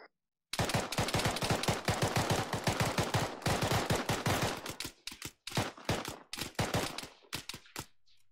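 Rapid, sustained automatic gunfire from the military shooter ARMA 3 during a squad battle, loud and dense with overlapping bursts, breaking into a brief pause and then tailing off into scattered shots.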